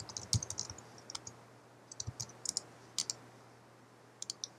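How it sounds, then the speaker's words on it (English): Keys clicking as text is typed on a computer keyboard during a Cinema 4D animation session, with short bursts of crisp, close taps separated by pauses over a low steady hum. "Now just type in your text"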